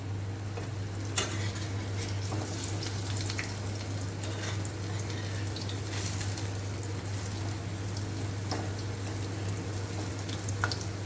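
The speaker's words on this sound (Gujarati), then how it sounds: "બીજી સાઈડ પણ એને આવી જ શેકાવા દઈશું" Chhole tikki patties frying in a pan with oil, a steady, close sizzle and crackle with occasional spits and scraping pops, no talk.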